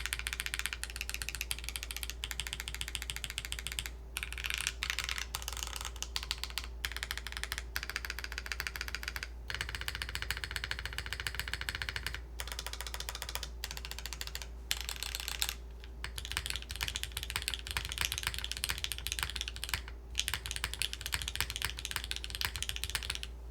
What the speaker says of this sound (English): Ooh, the arrow keys sound really clean on this.